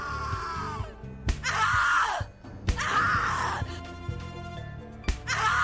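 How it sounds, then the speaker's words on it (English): Screaming and groaning from a character in The Cat Lady video game, loud, strained cries in repeated bursts over a low droning music bed. "Scream louder, little bitch. Scream your lungs out."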